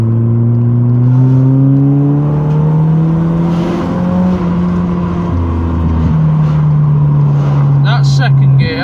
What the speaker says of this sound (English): I'm going to try and show you the sheer lack of acceleration that I've got at the minute.